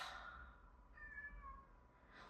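A house cat gives a single faint, drawn-out meow at a distance, indoors against a quiet low background hum.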